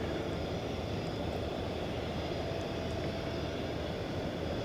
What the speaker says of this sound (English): This being Airbus A319, now making its way down runway 36 right.